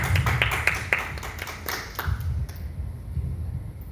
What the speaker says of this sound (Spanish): Brindémosle un fuerte aplauso, por favor.